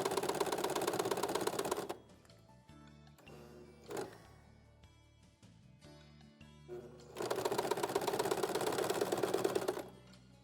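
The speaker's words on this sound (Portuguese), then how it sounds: "Aqui vou arrematar e já vou passar na costura reta." A sewing machine stitching a straight seam runs in two long, fast, steady bursts of rapid needle clatter, with a quieter pause between them that holds a few scattered mechanical clicks.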